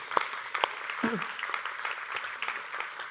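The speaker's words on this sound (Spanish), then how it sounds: "vamos a dar un aplauso a los cantantes y músicos" Church congregation at a Holy Week service applauding singers and musicians, a fairly quiet, sparse patter of clapping with a few sharper individual claps and a voice briefly heard over it.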